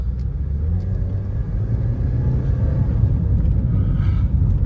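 A Honda Civic driving on the road with a steady low engine rumble that builds slightly as it accelerates, close and constant throughout with no talking.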